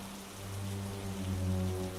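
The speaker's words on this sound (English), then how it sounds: "Do you think this rain will stop soon?" Steady rain falls on a surface at night along a walking route, a continuous hiss with a low droning hum beneath, no speech.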